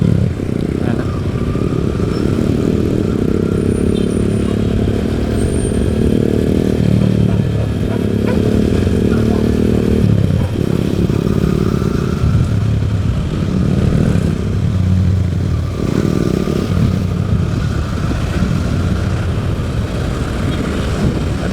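A classic-style scrambler motorcycle engine idles and revs steadily at close range, a continuous throaty rumble with occasional rises in pitch and no talking.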